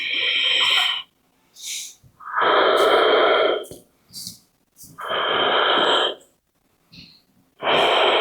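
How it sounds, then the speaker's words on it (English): Deep yogic breaths during a lying-down yoga practice, loud and close: long airy inhales and exhales with a rasping Ujjayi throat tone, in steady cycles separated by brief pauses and small sniffs. "Take a deep breath."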